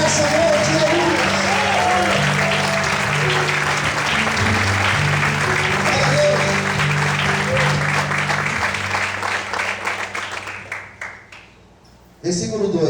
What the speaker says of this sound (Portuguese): Sabe que você pode aplaudir e exaltar o Senhor nessa noite?